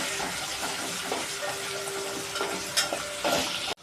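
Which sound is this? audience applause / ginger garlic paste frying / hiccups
ginger garlic paste frying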